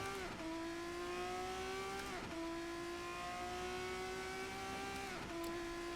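A Formula 3 race car in the Assetto Corsa sim racing game at the Nurburgring, its engine droning loudly at a steady high pitch, with brief dips at gear changes before it pulls on again.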